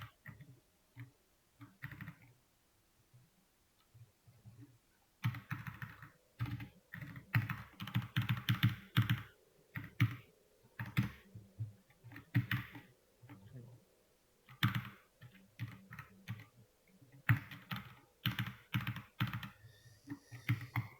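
Computer keyboard typed in bursts of rapid key clicks while code is entered on a Linux system, with pauses between runs and some low background noise.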